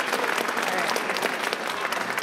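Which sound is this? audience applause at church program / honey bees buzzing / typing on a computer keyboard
audience applause at church program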